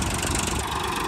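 A Swaraj 963 FE tractor fitted with a JCB-style loader attachment and a hydraulic pump runs steadily with no load, its engine giving a constant, close, fairly loud rumble throughout.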